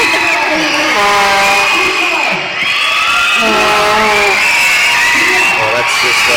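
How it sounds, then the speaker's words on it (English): Arena crowd at a Bendigo versus Albury Wodonga NBL1 men's basketball game cheering, whooping and shouting loudly during a timeout, a dense continuous roar with children's yells rising throughout. "The crowd's definitely into it."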